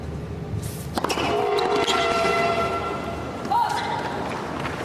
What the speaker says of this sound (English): sound from the train came at a reasonably inopportune time